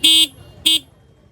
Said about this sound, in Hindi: इस टाइम सिर्फ सिंगल हॉर्न बज रहा है।